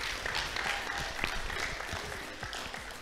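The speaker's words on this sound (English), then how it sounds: "So, round of applause for that." An audience at a high school esports exhibition match between Hickman and Battle applauds steadily, a dense wash of clapping from a crowd, with no talking over it.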